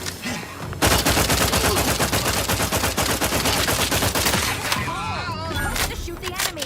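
Sustained, loud automatic gunfire from The Outer Worlds 2, rapid shots hammering almost without pause for several seconds before tapering off among other game effects.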